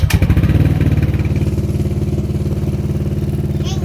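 A Yamaha Nmax 155 scooter engine catches and keeps running after repair, a close, loud, steady rapid putter with a brief sharper burst at the start.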